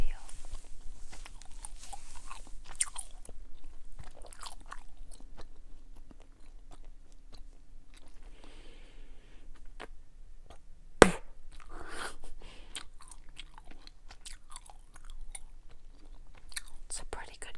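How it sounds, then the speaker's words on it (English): Soft, close mouth sounds of gum being chewed in wet, irregular smacks, with one sharp click partway through and faint murmured voice in places. "It's a pretty good gum."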